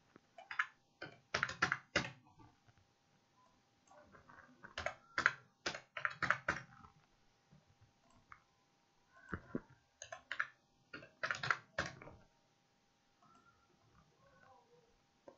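Bursts of quick key clicks from typing on a computer keyboard, close and fairly quiet, arriving in short clusters separated by pauses, with no talk.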